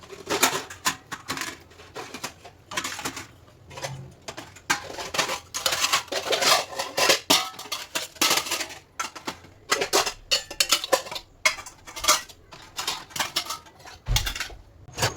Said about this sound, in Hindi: बर्तन धोने के साथ साथ मैं उसे उसकी जगह पर भी जमा के रख रही हूँ